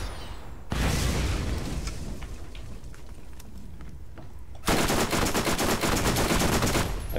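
Sustained rapid SMG fire in the game Borderlands, a dense rattling stream of shots lasting several seconds, growing louder and harsher near the end after a short quiet start.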